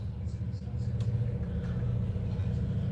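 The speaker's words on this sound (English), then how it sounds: "Okay, there's a truck coming down." A truck creeps slowly down a snowy, slippery road, its engine giving a low, steady rumble with slight revving that stays close and continuous.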